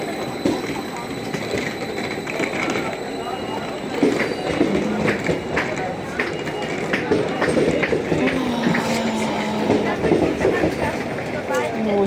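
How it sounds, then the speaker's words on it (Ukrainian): A train rolls past near a village station in Austria, its steady rumble and wheel noise running throughout with a brief squeal, while people talk and footsteps move close by. "А тут цей поїзд їде, окей?"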